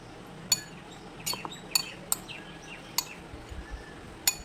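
A utensil clinks sharply against a bowl several times at irregular moments while mixing spices and mustard oil for a raw potato snack, faint and quiet between the taps.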